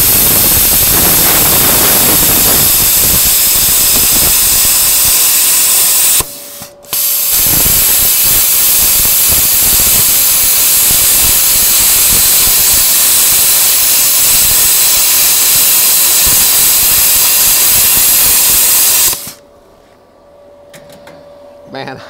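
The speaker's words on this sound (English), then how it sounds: "I'm gonna do two different style gouges, just a straight push and one with a little motion so you can see what I'm doing" An ESAB Cutmaster 30+ plasma torch gouging metal gives a loud, steady, roaring hiss in two long passes separated by a short break, with a voice talking over it.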